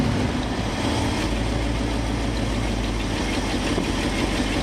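A car engine fitted with a Holley carburetor idles steadily, a loud close rumble with a faintly uneven low throb that runs the whole time, with no talking over it.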